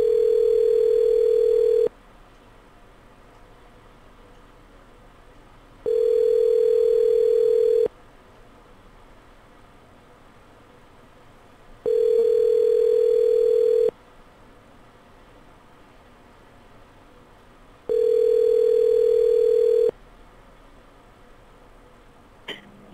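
An outgoing telephone call rings back in four evenly spaced two-second tones separated by about four seconds of quiet line hiss, steady and clear with no talking.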